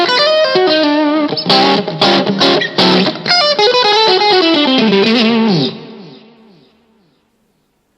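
A Rob Williams Classic 57 electric guitar on the middle and bridge pickups plays a quick, bluesy, fusion-style phrase of bent notes and short chord stabs, bright and driven, then rings out and fades to silence.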